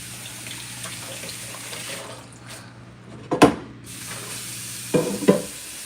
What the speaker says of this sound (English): So I'm just getting some water in my pot.